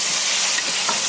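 Marinade stirred in a hot pan for Vietnamese beef stew (bò kho), a steady broadband sizzle with soft scraping strokes running close and loud throughout, no voices.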